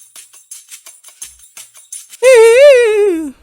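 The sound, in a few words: percussion loop beat without effects in FL Studio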